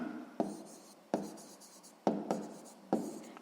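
A pen writes on paper in four short strokes, each starting with a sharp scratch and fading quickly, close and quiet with nothing else heard.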